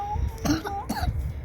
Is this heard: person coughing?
yes